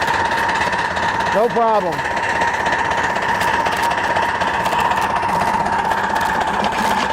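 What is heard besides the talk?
model locomotive running on steel rail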